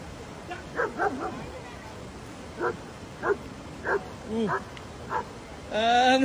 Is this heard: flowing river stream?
no